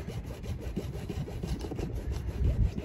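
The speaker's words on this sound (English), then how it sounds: "Hacksaw blade seems to work." A hacksaw blade cuts down a part on an RV roof, giving quick, steady back-and-forth rasping strokes close by with no talking.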